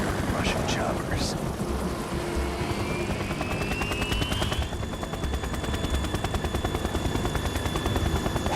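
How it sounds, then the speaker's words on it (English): Russian helicopters in the Metal Gear Solid video game, a loud continuous rotor thrum with dense rapid gunfire chatter throughout and a rising whine midway. "Russian choppers."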